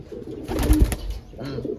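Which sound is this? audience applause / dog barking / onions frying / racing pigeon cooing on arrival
racing pigeon cooing on arrival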